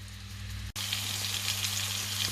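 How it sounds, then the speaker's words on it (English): Onions sizzle and crackle steadily in hot oil on high heat for a lamb curry, close and even, with a brief dropout near the start. "So the onions are frying nicely."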